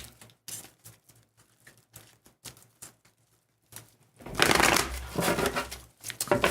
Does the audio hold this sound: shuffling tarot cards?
yes